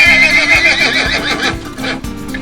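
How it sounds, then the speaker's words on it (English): A horse near a bike path outside Frankfurt, Germany neighs loudly and close by, a long shrill whinny that breaks into shuddering snorts, with faint hoof thuds underneath. "Hello, horsey. Are you a good horse?"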